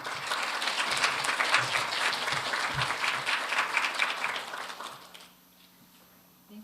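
Warm applause from a conference audience at a governance and innovation forum after a professor's presentation, a full, even clapping that swells, holds for several seconds, then fades out to near silence.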